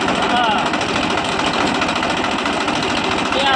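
A tractor engine runs in a rural Gujarati setting, its steady rattling chug continuous and close throughout while people talk over it.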